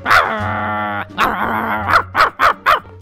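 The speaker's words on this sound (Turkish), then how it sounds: "Ben şimdi köpeğimi çağıracağım, seni ısırsın yani" Dog barking in the Minecraft video game: a sustained growl or whine opens, then several sharp, loud barks come in quick succession, close and clear with no talk over them.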